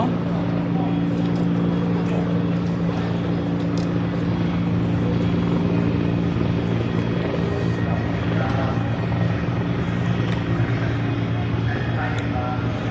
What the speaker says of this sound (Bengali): হেলিকপ্টার দিয়ে মনিটরিং করতেছে, ক্যামেরা দিয়ে।